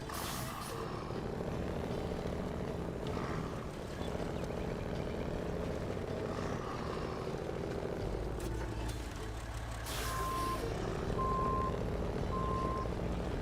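Kenworth truck reversing in the SnowRunner video game: a steady low engine rumble under a regular series of reversing beeps near the end, with occasional hiss like air brakes, and no talk.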